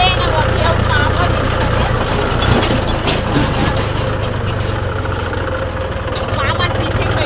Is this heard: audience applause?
no